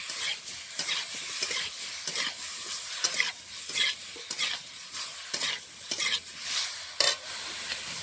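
Raw mango frying lightly in a pan for chutney, a close sizzle broken by irregular bursts of stirring and scraping against the pan, with no talk.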